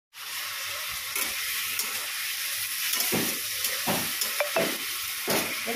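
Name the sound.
fried paneer simmering in hot water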